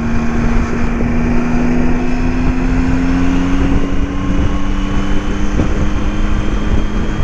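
A motorcycle engine drones loudly and steadily throughout, a continuous low tone with heavy wind rush over it, while the bike is ridden up on its rear wheel.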